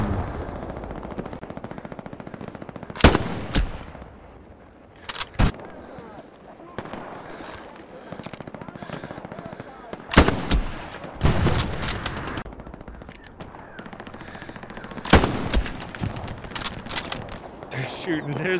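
Machine-gun fire in the WWII shooter Hell Let Loose, several loud, close bursts of rapid shots cutting through a steady battlefield rumble, with people talking throughout.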